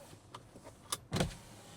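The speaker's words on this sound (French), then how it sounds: "la vitre du siège conducteur est ouverte" The driver's-side electric window of a Leapmotor B10 SUV opens with a faint, brief motor whir and a few soft clicks inside the quiet cabin.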